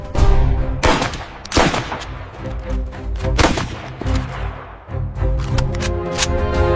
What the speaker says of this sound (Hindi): उस रात चंबल की खामोशी को चीरती हुई गोलियों की आवाज ने एक नई कहानी लिखी